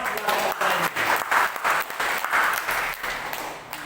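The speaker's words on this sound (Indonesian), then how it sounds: "Jadi ya tepuk tangan untuk keluarga." A church congregation applauds a family, giving brisk clapping that swells and dips in short waves over a few seconds, fairly close and without clear talk.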